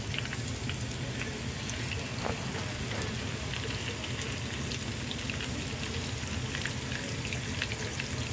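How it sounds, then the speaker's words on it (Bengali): Fish frying in oil in a home kitchen pan, a steady, even crackling sizzle that holds at the same moderate level throughout with faint scattered pops. "আমি সব কারির মাঝে মাছগুলা ফ্রাই করে দেই।"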